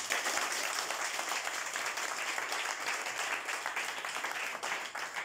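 A church congregation applauds steadily, a dense wash of many hands clapping close and loud throughout, with possible cheering mixed in and no clear speech.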